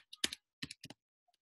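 A few short bursts of keyboard typing, quick clusters of clicks separated by brief pauses, close and quiet against near silence.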